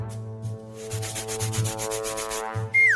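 A simple hand saw cuts through a big burger in a food challenge, giving a steady rhythmic rasping stroke after stroke over a musical backing, with a sharp rising tone near the end.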